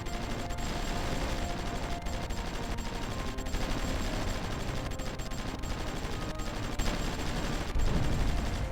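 Steady crackling gunfire from units fighting in the Supreme Ruler Ultimate strategy video game, rapid overlapping shots that run without a break at a moderate level, with a few louder bursts toward the end.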